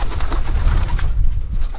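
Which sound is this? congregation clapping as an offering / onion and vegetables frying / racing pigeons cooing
racing pigeons cooing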